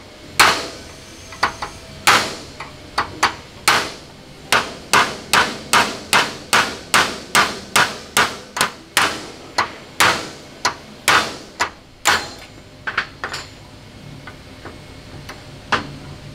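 Sharp, loud hammer blows ring on a metal part during the fitting of a Detroit Diesel 8V71T engine into a WWII Grant tank, about twenty close strikes in an irregular, mostly steady rhythm, without speech.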